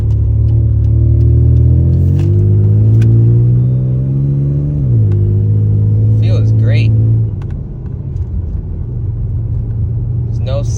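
A 1992 Nissan Maxima fitted with new coilovers pulls onto a main road, its engine droning loud and close and climbing in pitch before settling into a steadier cruising hum, with someone speaking briefly over it.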